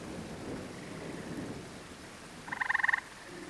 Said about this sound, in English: The lone gray tree frog from before seemed to like the rain as he hid within this lily.